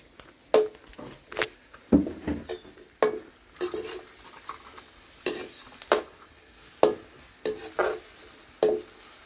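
Chopped onion and ginger-garlic paste are stirred in hot tempering oil for a raw jackfruit bhaji, a low sizzle under repeated sharp spoon-on-pan scrapes and clinks at a brisk, uneven rhythm, close by.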